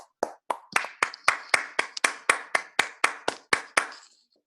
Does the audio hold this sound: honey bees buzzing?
no